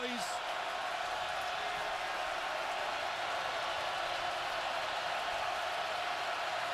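Steady, dense roar of a packed NFL stadium crowd on a third-and-long down during a 2014 Thursday night game between Pittsburgh and Baltimore, a continuous broadband wash of cheering holding level throughout.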